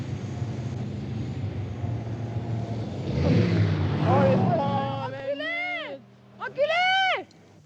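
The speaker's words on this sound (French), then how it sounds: "Ah, voilà une voiture." A car approaches and passes on a street, its engine swelling to a broad rumble at the peak and then fading, with voices talking and shouting over and after it.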